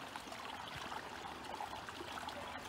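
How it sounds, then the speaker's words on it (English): Water trickles steadily from a cottage garden water feature, a faint, soft, continuous babble with no other sounds. "I could sit out here and feel the peace of the sound of the water"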